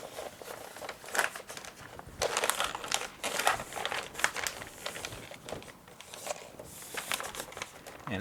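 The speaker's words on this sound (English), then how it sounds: "Just crush the paper in here." Butcher's paper crushed and crumpled by hand against a wall, a sustained run of close, crisp crinkling and crackling with irregular louder bursts, no talking.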